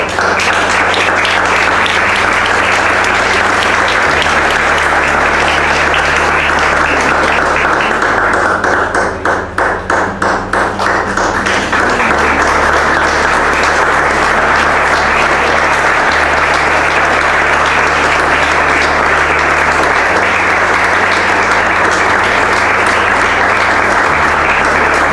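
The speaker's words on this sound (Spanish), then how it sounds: "quiero que le demos un aplauso" A church congregation gives sustained, loud applause for about twenty-five seconds, a dense and steady wash of clapping that dips briefly midway before surging back, with no talking over it.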